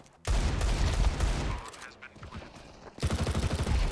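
Gunfire in Counter-Strike 2, loud bursts of rapid automatic shots with a short lull in between, close and punchy, with a voice talking among the shooting.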